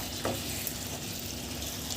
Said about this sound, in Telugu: ఇది వేగుతున్నప్పుడు ఇందులో జీడిపప్పు వేసుకోవాలండి